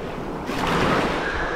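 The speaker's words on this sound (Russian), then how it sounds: "Показываю вам море." Sea of Azov surf washing ashore on an empty beach near Golubitskaya, a steady broadband wash of waves swelling louder midway, with wind buffeting the microphone and no voices.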